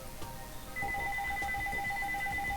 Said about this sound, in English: Ignore that phone call there.